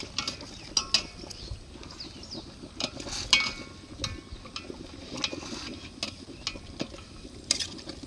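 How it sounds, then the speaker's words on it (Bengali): A spoon stirs a whole goat curry of about 6.5 kg in a pot, giving irregular metallic clinks and scrapes over a soft sizzle, fairly quiet and close, with no talking. "এবার দিয়ে একটু নাড়িয়ে দেবো।"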